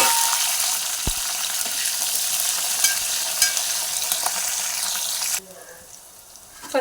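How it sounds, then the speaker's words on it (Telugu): Half a spoon of mustard seeds, two torn dry red chillies and cut green chillies frying in a pan sizzle loudly and steadily with a few sharp pops, then drop abruptly to a quiet hiss near the end. "అర స్పూన్ ఆవాలు, తుంచుకొని 2 ఎండుమిర్చి, ఎండుమిర్చి వేగినాక కట్ చేసుకున్న పచ్చిమిర్చి"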